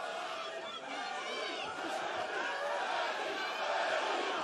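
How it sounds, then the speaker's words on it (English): A boxing arena crowd at the Thor Bjornsson vs Eddie Hall heavyweight fight keeps up a steady, dense roar of many voices chanting Eddie Hall's name throughout, loud and continuous. "Chant of Eddie Hall again. This crowd trying to pick Eddie up."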